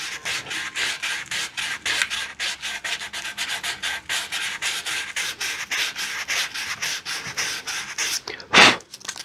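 Sandpaper rubbed back and forth over a solid wooden electric guitar body being smoothed after dent filling, a steady close rasping rhythm of quick strokes, ending with one louder scrape, no talk.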